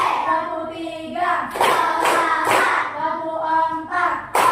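Sharp hand claps land in a counted rhythmic pattern in an elementary classroom ice-breaker. Groups of claps are spaced between sung or chanted tonal voice, with loud near claps punctuating the chant.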